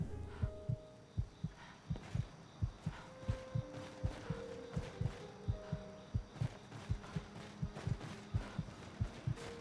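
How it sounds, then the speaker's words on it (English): Heartbeat effect in the Skyrim video game: steady, muffled double thumps repeating about twice a second, low and throbbing, with a faint hum underneath and no talking. "I still hear my heartbeat in my ears."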